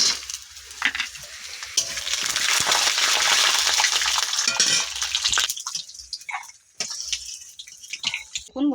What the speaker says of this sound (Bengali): বাদামটা আমরা তেলে ভেজে নিচ্ছি।